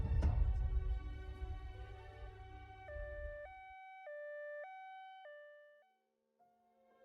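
An ambulance siren alternates between two electronic pitches in a steady hi-lo pattern. It follows a loud low rumble that dies away, and the siren then fades out alone.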